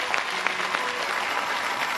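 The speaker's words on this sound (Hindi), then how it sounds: "एक बार जोरदार तालियों के साथ स्वागत कीजिएगा।" An audience at a Bhagavat Katha religious gathering claps in a dense, steady burst of applause that stays even and continuous throughout.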